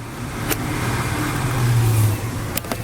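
A 1971 International Travelall engine idles with a steady, low mechanical rumble that swells slightly midway, heard close up with a couple of brief clicks or knocks but no talking.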